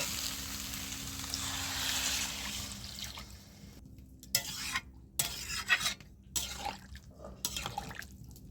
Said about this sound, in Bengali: এইবার আমি জল ঢেলে দিচ্ছি পরিমাণ মতন।